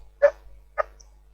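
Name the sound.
dogs barking in the background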